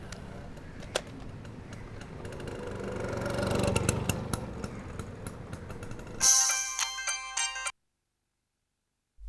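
A phone ringtone plays in a short burst of repeated electronic tones after a stretch of engine and motorcycle noise, then cuts off abruptly to silence.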